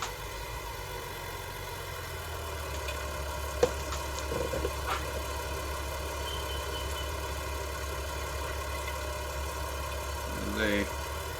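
Close, steady idle of a Massey Ferguson tractor engine, a constant low rumble with faint clanks over it, with people talking.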